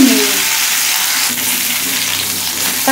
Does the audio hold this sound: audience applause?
no